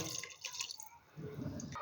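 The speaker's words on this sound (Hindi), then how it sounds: "और इसके साथ हम शामिल कर देंगे तकरीबन 1 गिलास पानी।" Water from a glass poured into a pot of beef masala curry, a faint splashing pour that fades and then returns briefly, heard alone without talk.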